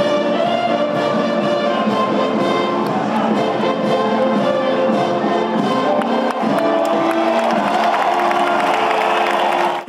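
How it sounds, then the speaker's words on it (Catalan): In the town square at La Patum de Berga festival, after a song, a large crowd keeps up loud, sustained applause mixed with cheering and whoops, building slightly toward the end. "I la plaça esclata en grans aplaudiments."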